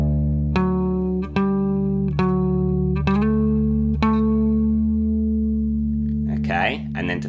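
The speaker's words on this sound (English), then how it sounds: "All right, so if we put it all together so far, it's going to sound like this." A clean electric guitar plays a riff, sustained picked notes ringing one after another with a steady rhythm, ending in a brief scratchy flourish.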